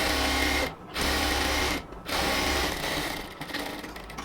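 An industrial-sounding sewing machine runs loud and close, stitching double seams on cotton ladies' pants, in three continuous runs broken by two short pauses.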